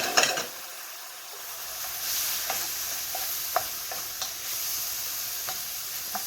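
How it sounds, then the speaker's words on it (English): Marsala wine sprinkled into a pan of shrimp and mushrooms sets off a close, steady sizzle, with a brief burst of spatter at the start and light utensil taps throughout, no talk. "I'm going to just sprinkle a little bit of the Marsala."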